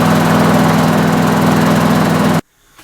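A small engine fitted with a Quantum carburettor runs loud and steady at close range with a constant droning buzz, then cuts off abruptly near the end, leaving near silence.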